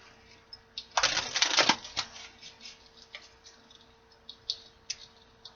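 A quick burst of tarot card-shuffling riffles, followed by scattered soft taps and clicks of cards being handled close by.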